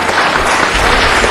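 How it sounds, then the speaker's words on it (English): Applause fills a City Council meeting hall for the oldest African American Democratic club west of the Mississippi, a dense, steady burst of many hands clapping at full volume for a short moment. "They deserve a round of applause just for that."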